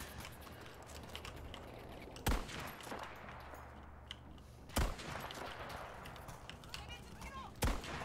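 Three sharp, widely spaced gunshots aimed at a tank in Battlefield V ring out over a quiet battlefield rumble while a voice talks.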